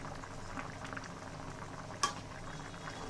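A pot of thin hilsa fish curry broth tempered with black cumin boils steadily, a continuous low bubbling hiss with one brief sharp click midway, close and fairly quiet, no voices.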